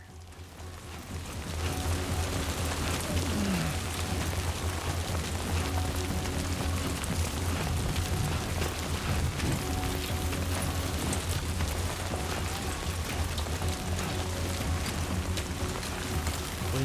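Timefall rain in the game Death Stranding 2 pours steadily over a low rumbling hum, a dense continuous patter that swells in after the first second and holds level throughout.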